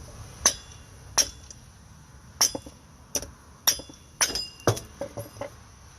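Hammer striking to knock out a rusty rear wheel bearing on a 2007-2017 Jeep Compass 4x4: about nine sharp, ringing metallic blows, evenly spaced then quickening toward the end, close and loud.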